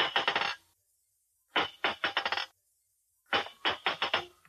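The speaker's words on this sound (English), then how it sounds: "the ingenious testing of the jewel-like steel balls which cut down friction in our machines" Steel ball bearings clink against each other in a radio sound effect of precision testing, three quick bursts of bright metallic tinkling rattles separated by silence.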